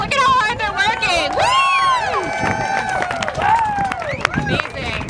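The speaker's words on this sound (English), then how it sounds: "Let's give another big round of applause for our gardeners" An audience claps and cheers loudly for gardeners at a permaculture gathering, with high whoops and shouted cheers rising over steady applause.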